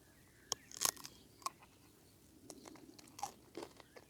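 Someone bites into a crisp Thai cucumber and chews it up close, producing one loud crunch and then a series of quieter, irregular crunching chews over a faint background, with no talking.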